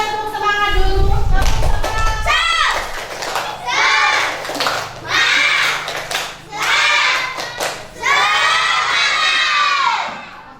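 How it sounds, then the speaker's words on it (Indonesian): A class of schoolchildren chants loudly together in rhythmic bursts with claps mixed in, the shouted phrases coming in several pulses after a short spoken prompt at the start. "Coba tepuk semangat dulu"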